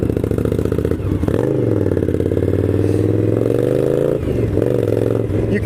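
A 2016 Indian Scout cruiser with a dual overhead cam engine revs and pulls hard while ridden, a loud, steady drone that rises and falls in pitch with a brief dip in the middle.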